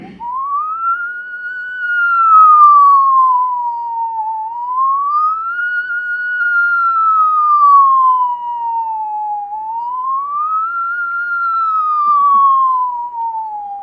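A human voice imitates a fire engine siren, a smooth rising and falling wail repeating in slow, even cycles, loud and close with no other sound.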